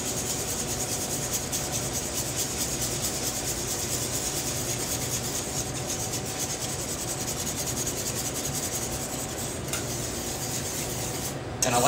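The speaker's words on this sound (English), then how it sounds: "And then I'm just going to whisk this all together." Continuous scraping and rubbing of a whisk against a bowl as a sauce with spices, concentrate and cream is blended, steady and close for about twelve seconds with no talk.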